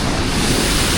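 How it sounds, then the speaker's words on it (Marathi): Rushing water from a stream below a waterfall in heavy monsoon rain, a dense, steady roar filling the whole second with no pauses and no voices. "पाण्याचा आवाज बघा कसा येतो आहे"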